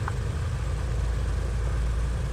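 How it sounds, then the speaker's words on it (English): An aircraft engine, number 3, spools up during start on the ground before a flight from Dnipro to Odesa, giving a steady low heavy rumble with a broad hiss over it, loud and continuous. "Engine number 3 is starting up."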